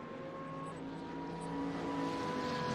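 A Camaro race car drafts down the back straight in a racing video game, its engine a steady droning whine that swells slightly louder toward the end, with no talk over it.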